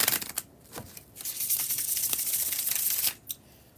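A tarot card deck being bridge shuffled, with quick riffling flutters and crisp papery snaps in short bursts, close and fairly quiet.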